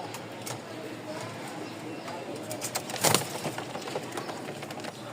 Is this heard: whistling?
no